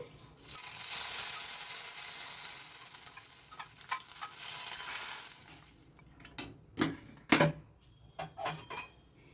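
A spice tempering for sesame chutney hits a hot wok with a loud, hissing sizzle that gradually dies down, followed by scattered clinks and scrapes of a utensil against the metal.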